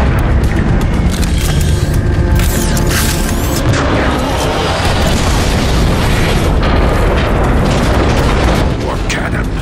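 Heavy booming cannon blasts in the video game Transformers: Fall of Cybertron rumble continuously and loudly, dense layered explosions with a roaring, chaotic backdrop.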